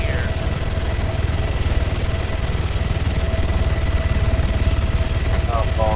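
A helicopter lands with a steady, loud rotor and engine drone throughout, while people talk over it.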